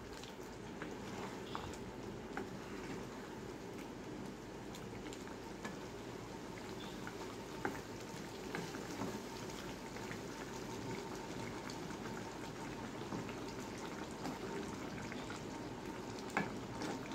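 Fholi fish curry simmers and bubbles faintly in a pan after cumin and coriander powder go in, with a soft, continuous sizzle and the occasional light scrape of stirring.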